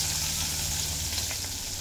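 A medium-sized tomato hits hot oil tempered with whole cumin seeds, and a steady close sizzle with a fine crackle continues throughout the brief moment.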